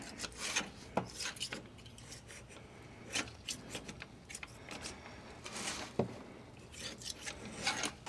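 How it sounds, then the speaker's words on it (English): A scraper rasps old gasket material off a Dodge Ram 1500 rear differential cover, irregular short scraping strokes close up, some sharper scratches, no talk. "I guess we'll clean the gasket off first."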